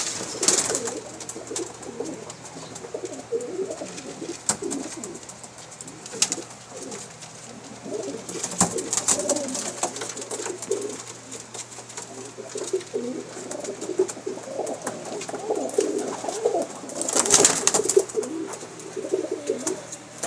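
A teddy breed pigeon, a dove-type female, coos steadily over about twenty seconds, soft repeated throaty calls at close range, with occasional rustles and a few sharper bursts.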